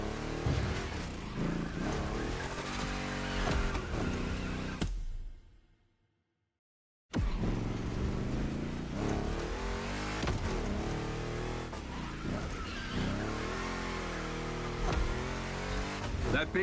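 Big-block car engine revving in The Crew Motorfest racing game during a Gymkhana event, a loud, close, sustained roar with rising and falling revs, cut by a brief silent gap midway before the engine resumes.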